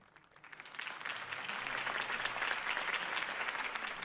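Crowd applause rising after Harvey Dent's campaign speech in a Batman film, a dense wash of many hands clapping that swells from quiet to steady and sustained, with no talk over it.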